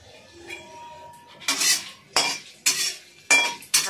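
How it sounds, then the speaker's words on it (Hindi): Spices tempering in a hot kadai, with faint sizzling and then several sharp metallic scrapes and clinks as a spoon stirs against the pan. "कढ़ाई चढ़ा दिए हैं, फोरन डाल दिए हैं"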